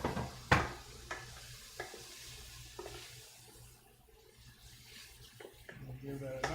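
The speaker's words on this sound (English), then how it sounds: "We'll give that a nice stir." Cajun shrimp being stirred in a pan gives a soft sizzle and scraping clatter, faint and steady, with occasional louder knocks of utensil against metal and a voice talking over it.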